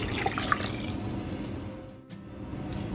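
Chicken stock, one liter, is poured into a pot of chicken and corn soup, a steady close splashing pour that stops abruptly near the end, then a softer trickle.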